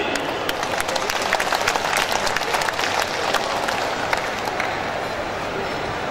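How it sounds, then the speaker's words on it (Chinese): Warm, sustained applause rises from a seated crowd at the founding ceremony of an overseas Chinese calligraphers' association in Jakarta. Dense, even clapping continues for several seconds at a steady level. "给予热烈的掌声祝贺和温馨的鼓励"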